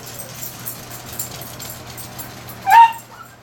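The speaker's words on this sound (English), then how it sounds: "Why are you barking?" A single short dog bark or yip sounds near the end after quiet room noise with a low steady hum.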